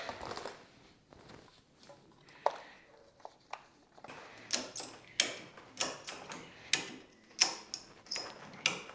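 Ratchet strap being cranked to lift a 2022 Honda Grom motorcycle off the ground: a series of sharp, regularly spaced clicks, sparse at first then quickening into a steady rhythm, close and fairly quiet.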